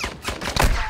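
A cannon fires in a raid-style video game, giving a rolling burst of heavy booming blasts that peaks toward the end of the second, loud and close with no talk.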